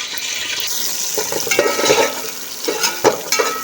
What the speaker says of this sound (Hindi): अब इसमें प्याज डाल के फ्राई करते हैं अच्छे से।